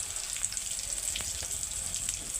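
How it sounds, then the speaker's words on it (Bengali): Fried onion snacks sizzle steadily in hot oil in a pan, a continuous hissing fry with faint scraping as pieces are lifted out, close and moderately loud with no talking. "আমার সবগুলো ভাজা রেডি। আমি তুলে নিচ্ছি সবগুলো"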